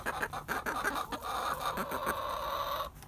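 Chickens perched on top of their coop cluck and call, a near, steady run of clucks and squawks over a few seconds with no talking.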